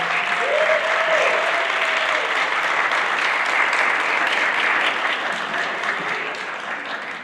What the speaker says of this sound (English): the rest of the audience give them a round of applause for their commitment to history